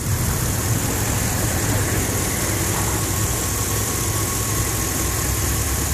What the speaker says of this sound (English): As you can hear, the vehicle just runs really well.